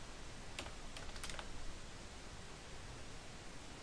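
A computer keyboard is typed on in a short, quick run of light clicks while a date is entered into an online order form, faint beneath a steady hiss of background noise.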